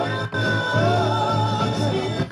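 A sampled Christmas record plays back through an MPC X: dense, full-band music with sustained tones and a steady low bass, heard continuously with a brief dip near the start.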